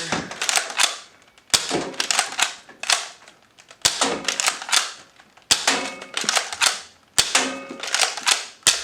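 Nerf Mega CycloneShock blaster firing AccuStrike darts, six sharp loud shots spaced about a second or more apart, each a crisp crack with a short mechanical rattle, no talk.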